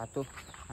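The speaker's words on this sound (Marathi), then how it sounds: "फक्त हे जे किडे पक्षी वगैरे असतात, तुम्हाला पण ऐकू येत असतील बॅकग्राऊंडला त्यांचे आवाज." Insects chirp steadily in a Konkan village at dusk, a thin high buzz running beneath nearby talking voices through the short moment.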